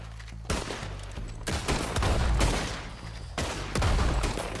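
Heavy gunfire in the game Red Dead Redemption 2, bursts of rapid overlapping shots with deep booming tails, loud and close, coming in waves with brief gaps between volleys.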